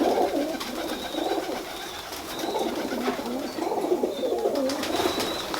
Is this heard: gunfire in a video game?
no